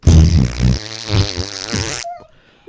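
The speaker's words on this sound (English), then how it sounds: "he'll just hear a fart sound the entire time that I'm talking" A loud, wet, sputtering fart sound effect plays for about two seconds and then cuts off abruptly, leaving near-silence and a faint click at the end.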